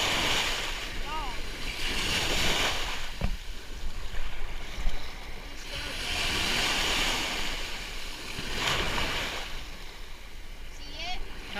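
Ocean surf breaking on a Florida state park beach, swelling rushes of wave noise in roughly regular surges with strong wind buffeting the microphone; people's voices come through faintly in places.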